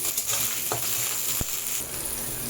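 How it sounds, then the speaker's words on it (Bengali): Pointed gourd stirred in hot oil for aloo posto, a steady frying hiss running throughout with a few soft spatula scrapes and one brief knock, no voices. "পটলগুলো একটু তেলের মধ্যে হালকা নেড়ে চেড়ে নিই"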